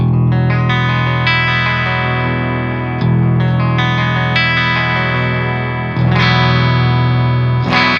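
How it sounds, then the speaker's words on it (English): Clean tone from a Schecter C8 Evil Twin multi-scale 8-string guitar on the bridge pickup, with full chords strummed roughly every three seconds and left to ring out, shimmering with chorus and reverb, close and alone without talk. "bridge pickup on voice 1."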